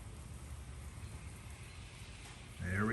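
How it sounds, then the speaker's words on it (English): Heavy rain pours down at home beside a parked 2008 Corvette C6 Z51, a soft, steady hiss of falling water that ends in a sudden louder knock and rustle. "it's still pouring down rain"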